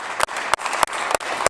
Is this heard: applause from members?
yes